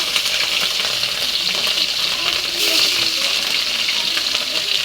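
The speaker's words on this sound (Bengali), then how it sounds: "মাছটা ভেজে নেব এই পিঠ করে।" Pieces of rohu fish frying in a wok, a loud, dense, continuous crackling sizzle heard up close with no voices over it.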